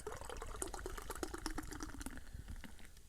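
Beer chilada poured into a glass, a steady liquid stream with bubbling and fizzing running close and continuous before thinning out toward the end.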